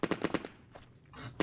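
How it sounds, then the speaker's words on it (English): Submachine gun fire in Fallout: New Vegas, a rapid burst of four or five loud close shots in the first half second, then a lull and another single crack at the end. "I just heard gunfire."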